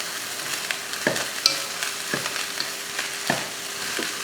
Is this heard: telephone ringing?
no